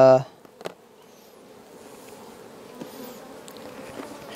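A low, steady buzzing of many honeybees, in poor condition from varroa mites, hums throughout, after a brief burst of noise at the start, with faint clicks and rustles.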